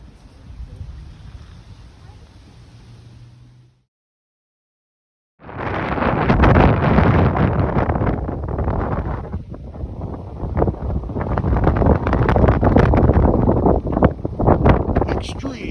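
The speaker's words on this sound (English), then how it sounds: "Wind's about 10 miles an hour" Wind gusts buffet the microphone at a cold scenic overlook in Blowing Rock, North Carolina, a loud continuous rumble with a brief silent gap, quieter gusting before and stronger roaring after.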